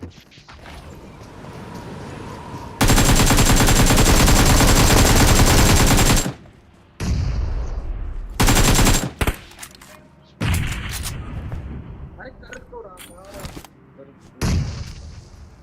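Loud video-game gunfire bursts from an AKM Glacier and M416 Glacier battle, with a long rapid automatic volley followed by shorter blasts and grenade-like bangs, separated by brief gaps of quieter background.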